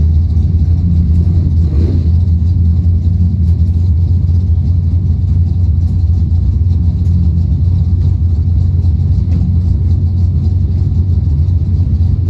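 Race cars compete in the Trails 300 event at National Trail Raceway, including a Ford Mustang. Their engines make a loud, unbroken rumble that fills the whole stretch, with no clear gaps between passes.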